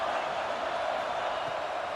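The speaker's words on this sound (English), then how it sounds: "This crowd bringing the energy and noise early." A football stadium crowd roars in a steady, dense wash of noise that holds at an even level throughout, with no distinct voices rising above it.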